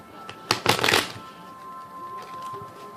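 An oracle card deck riffled in one quick burst of dense fluttering clicks, close and crisp, followed by quiet room hum.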